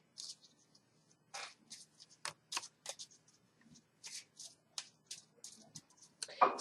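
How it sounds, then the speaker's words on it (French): A normal deck of playing cards is shuffled by hand in a quiet room before a magic trick, giving repeated crisp riffles and flicks in short bursts of varied length. "On peut même mélanger le jeu."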